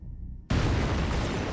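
A bomb goes off beneath a heavy table at a wartime military conference, a sudden loud blast that rips in after a brief quiet hum and sustains a dense, roaring rumble to the end.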